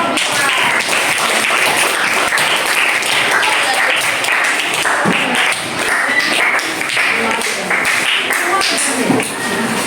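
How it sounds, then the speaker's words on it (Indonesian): Sustained applause from a group for a presenting team in a teacher-training classroom session, dense and steady throughout with a few louder taps and thumps, and voices mixed in. "kita kasih tepuk tangan untuk kelompok"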